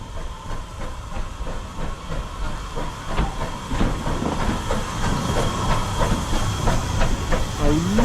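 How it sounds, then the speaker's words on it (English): A steam locomotive train pulls into Totnes Riverside station on the South Devon Railway, with steady hissing steam, rumbling and rhythmic clickety-clack of wheels on rail joints throughout, fairly close and loud, with a brief squeal near the end. "final trains of the day coming in here at Totnes Riverside"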